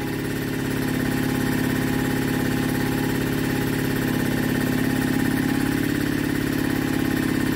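A small 1960s two-stroke generator engine chugging steadily at a fast idle, loud and close, with a constant droning hum and no voices.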